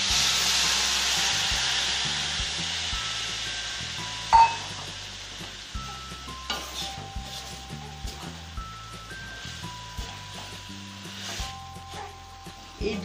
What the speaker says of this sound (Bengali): এই দুধটা মেতে দিয়ে দিচ্ছি।